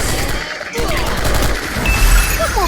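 Loud rapid gunfire rattles in dense bursts during a Free Fire video game match, with players' voices mixed underneath.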